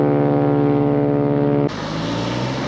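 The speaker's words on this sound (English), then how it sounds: "neither's that noisy plane above me" A propeller plane drones steadily overhead near the coast between Rye and Hastings, a loud continuous hum that shifts abruptly in tone partway through as it passes.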